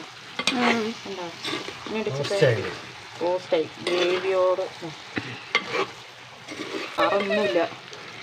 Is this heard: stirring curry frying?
yes